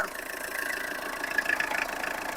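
A car engine idles steadily at close range, a constant rumbling drone with no voices over it.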